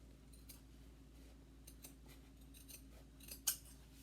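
Scissors snip lace fabric while trimming a clutch purse, a series of faint, close, quiet cuts with one sharper snip near the end, no talking.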